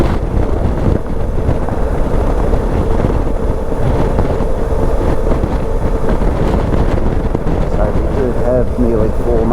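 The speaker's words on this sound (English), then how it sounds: "It's quite windy out here today." Steady, loud wind buffeting while riding a Suzuki V-Strom 650 motorcycle on a windy day, a continuous roar with engine rumble beneath, unbroken for the whole stretch.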